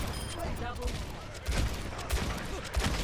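Rapid gunfire in an Overwatch match, with repeated shots in quick bursts under steady game ambience and someone talking over the action.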